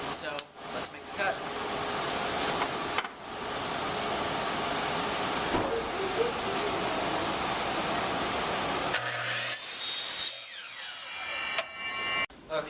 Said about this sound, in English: chop saws at a 5-degree angle, so let's make the cut